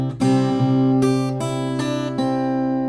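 A clean, sustained guitar melody of plucked eighth notes at a steady moderate pace, several distinct attacks ringing into each other, played alone without talking.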